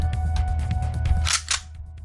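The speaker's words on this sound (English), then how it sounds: "That was the sound of a gun getting cocked" A gun being cocked, a couple of sharp metallic clicks near the end over a low rumbling background, no speech.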